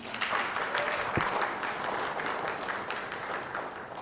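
Audience applause at a city council service awards ceremony, steady and fairly close clapping from a seated crowd that carries evenly throughout, with no break.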